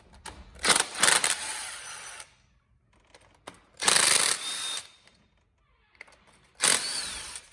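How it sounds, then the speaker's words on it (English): Metallic ratcheting and clicking bursts as a 10mm wrench backs out valve cover bolts on a 2006 Honda TRX450ER ATV, coming in three separate close-up spells with quiet gaps between them. "now you remove these three bolts with a 10mm wrench"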